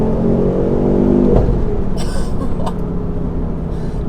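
A Ford Focus RS Mk2 engine in third gear rumbles with a deep, steady droning roar, not especially raspy, the revs holding strong then easing slightly, heard from inside the car.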